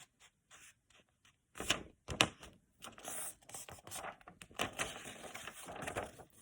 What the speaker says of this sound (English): If I was to fold it in half,